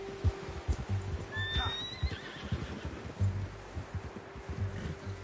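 A horse in a PS4 video game lets out a high, wavering whinny lasting about a second, heard over soft clip-clop hoofbeats and a steady low hum that run through the whole clip.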